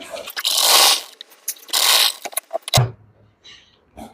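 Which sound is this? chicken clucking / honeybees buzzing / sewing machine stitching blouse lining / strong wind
sewing machine stitching blouse lining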